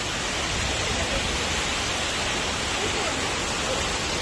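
Large waterfall at Doi Inthanon in northern Thailand pouring down onto the rocks below, a loud, steady, broadband rushing roar with no breaks.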